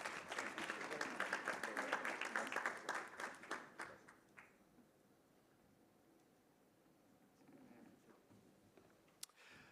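Audience applause at an award presentation during a construction law conference, a dense burst of clapping filling the first four seconds before fading to quiet room tone, with a sharp click near the end.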